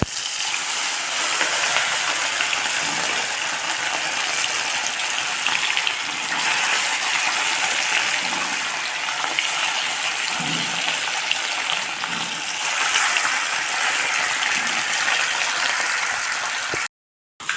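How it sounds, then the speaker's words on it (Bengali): Fish sizzles in a hot wok, a loud continuous frying hiss with crackling surges and a few soft clatters underneath, cutting off abruptly near the end. "কড়াই আমার গরম হয়ে গেছে, মশলা আমার রেডি হয়ে গেছে। তো মাছ ভাজে নেব।"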